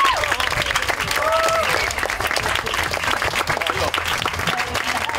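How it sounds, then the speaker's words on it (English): A crowd applauds a panel at an Indigenous resistance gathering, a sustained, dense wash of clapping mixed with a few cheers and voices that runs unbroken for several seconds. "let's give a big round of applause for our panel here."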